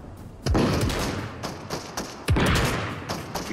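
Gunfire in a Fortnite match: two sharp, loud bursts of rapid shots, each hitting hard and then trailing into a dense, rattling spray of fire with smaller cracks between them.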